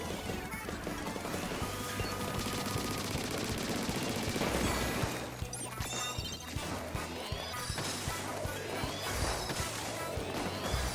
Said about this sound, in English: this explosion